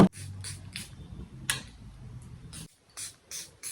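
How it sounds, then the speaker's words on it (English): Body spray hisses out of an aerosol can in a series of short bursts, several quick close sprays in a row, then a pause, then a few more. "Spray it on your body."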